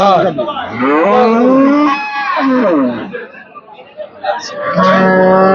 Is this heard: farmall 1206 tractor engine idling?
no